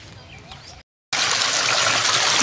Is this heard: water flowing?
yes